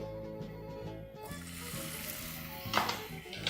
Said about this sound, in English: once your oil is hot, proceed to add your beef